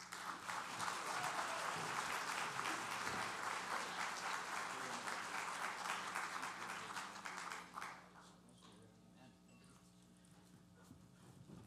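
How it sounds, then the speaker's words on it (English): A crowd applauds steadily for several seconds, the clapping dense and even, then fades to quieter room sounds near the end. "give a great round of applause for Mr. Steve Ray"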